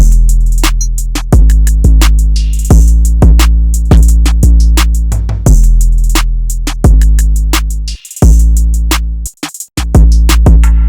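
A loud hip-hop beat with booming 808 bass notes and punchy kicks hits in a steady pattern, with sliding low tones and a brief dropout near the end.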